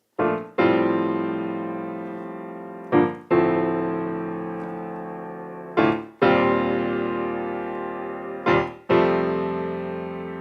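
Sustained piano chords from a song's intro in F ring out one after another, four separate strikes each left to decay slowly before the next, with no voices.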